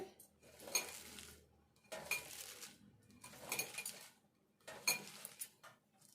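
Cabbage garelu batter mixed firmly by hand in a bowl, in four rhythmic bursts of wet stirring with light clinks against the bowl, close and fairly quiet, with no talking.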